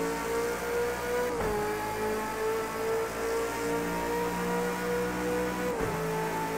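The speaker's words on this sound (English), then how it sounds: "Engine sounds really good" A race car engine at Bathurst in Project Cars 2 drones at a steady high pitch, dipping sharply twice as gears shift before climbing again, loud and continuous with no talk.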